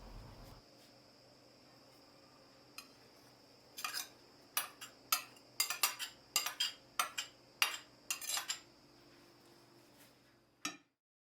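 Spoon stirring a yufka, parsley and white cheese filling in a bowl, a run of irregular clinks and scrapes grouped in the middle, with quiet gaps before and after.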